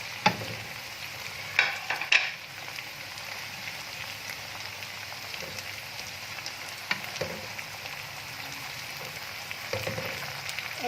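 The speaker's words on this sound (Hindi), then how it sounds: "अब हम इसके अंदर ऐड करेंगे टमाटर, जो कि इस तरह से मैंने चॉप किए हुए हैं" Chopped tomatoes hitting a pan of frying garlic-ginger paste for a fish masala, giving a soft, steady sizzle with a few sharp stirring clatters near the start and again toward the end, no voices.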